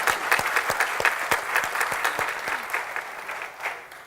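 An audience at a medical lecture on thrombectomy for acute ischemic stroke applauds a speaker: a short round of distinct, fairly loose handclaps, close and moderately loud, thinning out toward the end.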